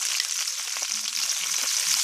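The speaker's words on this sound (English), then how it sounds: "So let's finish browning these up and we'll continue. Alright, so as you can see, the oxtail is browning really well." Oxtail browns in hot oil in a pan for Cuban rabo encendido, a loud, dense, continuous sizzle and crackle heard up close with no talking.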